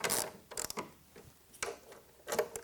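A ratchet and socket turn a bolt during assembly of a CoreAlign freestanding tower, with short close bursts of clicking ratchet strokes separated by pauses.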